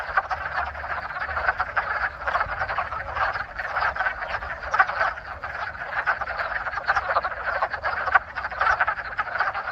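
A chorus of wood frogs calls at a pond, with dense, continuous clucking croaks overlapping throughout, fairly close and steady with no talk.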